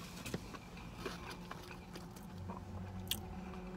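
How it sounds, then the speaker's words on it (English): Biting and chewing a crispy panko-breaded fish sandwich from Wendy's, close up: crunchy bites followed by soft, quiet mastication and occasional sharp crackles, low in level and without talk. "let me take a third bite"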